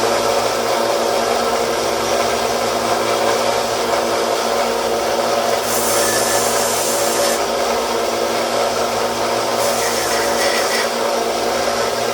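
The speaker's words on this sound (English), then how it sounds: "We're going to sand that down and try to punch that pin out of there." Sanding on a vintage knife runs continuously as a steady whirring grind with a constant motor hum, a couple of brief brighter bursts as the metal meets the abrasive.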